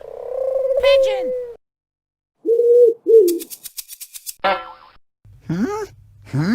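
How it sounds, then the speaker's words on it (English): A cartoonish pigeon coo in a baby sensory clip, made of short warbling tonal calls amid bright boing-like effects and playful vocal sounds, loud and close against silence. "Pigeon!"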